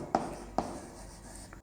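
Pen or marker writing out a chemistry reaction example on a board, three short scratchy strokes spaced apart, close and fairly quiet, with no talk.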